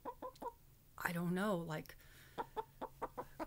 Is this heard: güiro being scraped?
no